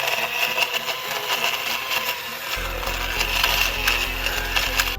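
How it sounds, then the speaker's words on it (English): Electric hand mixer whirring steadily as it shreds cooked crock-pot pulled pork, a constant close motor drone with a scraping, rattling texture, its pitch shifting lower partway through. "you can use a electric hand mixer to shred up the meat"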